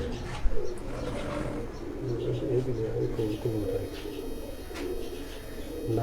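Lakha pigeons coo on a rooftop loft in Jalalpur Bhattian, making repeated soft, throaty calls nearby. Low background noise and faint human voices mix in.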